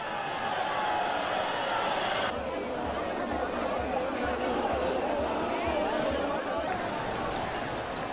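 Pilgrims at the Ratha Yatra chariot festival in Puri, India, raise a sustained roar of crowd noise and chatter, a dense, steady wash of many voices heard from a distance.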